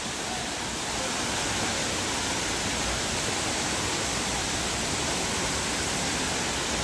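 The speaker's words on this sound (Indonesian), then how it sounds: "ya Allah, air terjun Ija" Benang Kelambu waterfall roars as a dense, steady wash of falling water, loud and close, unbroken from start to end.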